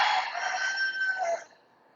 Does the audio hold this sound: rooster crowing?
yes